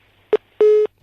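Telephone busy tone on a radio call-in line after the caller disconnects: a short beep followed by a longer steady beep, loud and clear with no talk over it.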